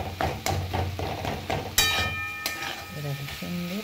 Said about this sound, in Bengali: চলো এবার এটা কষানো হোক আস্তে আস্তে